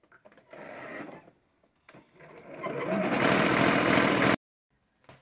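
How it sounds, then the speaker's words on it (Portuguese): A sewing machine stitches a finishing seam on a fabric Christmas star, short motor whirs at first and then a longer loud continuous run that stops abruptly. "Nos três, agora, nós vamos passar uma costurinha pra dar um acabamentozinho aqui"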